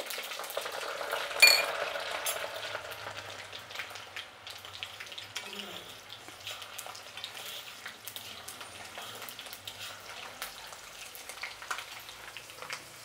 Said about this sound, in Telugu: ఇప్పుడు ఆవాలు చూడండి ఇట్లా సౌండ్ రావాలండి ఆవాలు వేసినాక